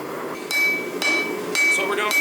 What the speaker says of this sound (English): we are going to squish down the end of the railroad spike